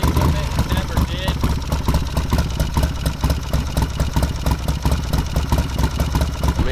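A Kawasaki Ninja motorcycle idles loudly and steadily up close, its engine giving off a continuous, rhythmic throbbing pulse with no break throughout.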